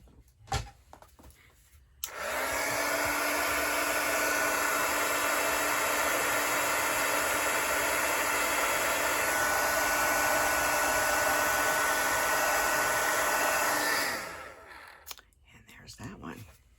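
Heat embossing tool blowing steadily to melt clear embossing powder on a snowflake card, a loud continuous airy whoosh lasting about twelve seconds, starting and stopping abruptly, with faint handling noises before and after.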